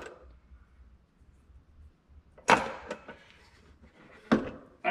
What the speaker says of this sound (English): That's a heavy drawer.